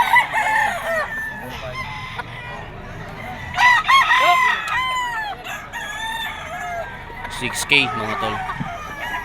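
Four-year-old sweater-bloodline gamecock roosters crow at a crowded bird market in Bocaue, Bulacan, several loud nearby crows overlapping with clucking, while someone talks throughout.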